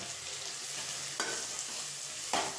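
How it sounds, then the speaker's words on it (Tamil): Snake gourd pieces sautéing in a pan, a steady broadband sizzle throughout with two sharp stirring scrapes of the spatula partway through; no one speaks. "நான் வந்துட்டு ஃபஸ்ட்டு காயை போட்டு நல்லா வதக்கிக்கலாம்"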